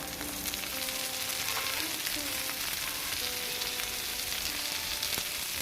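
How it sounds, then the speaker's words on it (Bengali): Chopped onion and tomato fry steadily in a pan with a dense, continuous sizzle, close and fairly loud throughout, for a matar paneer masala; nobody speaks. "পেঁয়াজটা হালকা করে এবার ভেজে নেব দিয়ে দিলাম কুচো করা টমেটো"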